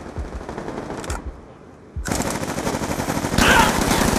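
Rapid automatic gunfire in the video game Call of Duty Black Ops 2, loud sustained bursts with a brief pause before the shooting resumes even more intensely.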